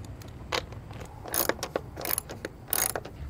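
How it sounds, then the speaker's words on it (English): A 13 mm socket wrench ratchets while tightening roof rack nuts on a 2014 Toyota Prius V, giving close, light clicking bursts in quick irregular runs with small metallic rattles between them. "Now get your 13 millimeter socket wrench and then tighten down"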